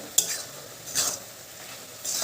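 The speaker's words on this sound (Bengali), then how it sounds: "দিয়ে এটাকে ভালোভাবে নেড়ে চেড়ে দেব" Red amaranth leaves with roasted cumin are stirred in a pan as a leafy shak chorchori cooks, three short scraping strokes of a spatula over a faint sizzle, close and fairly quiet.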